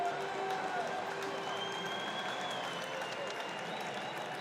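A stadium crowd at Paralympic athletics in Rio applauds in a steady, dense wash of clapping and cheering heard from a distance, with a commentator talking over it.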